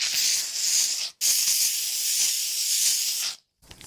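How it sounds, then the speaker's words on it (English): A steam cleaner hisses hard onto old Porsche 968 interior parts during mold cleanup, two long, loud, close bursts of spraying steam with a brief cutoff between them and a short final puff. "let's see what the steam jigger will do"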